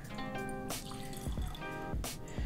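Water being poured from a graduated cylinder into a laboratory beaker, a close, steady liquid splashing and trickling with a few drip-like bursts, heard alone with no talking.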